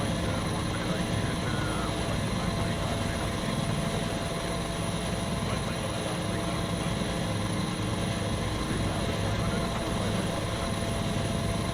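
A Bell 412 helicopter in a flight simulator game with a search-and-rescue sound mod drones steadily, its rotor and turbine noise loud and unbroken throughout.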